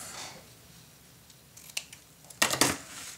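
Scissors snip through paper in a quiet craft setting, a few faint cuts followed by two or three sharper, closer snips near the end, with no talk.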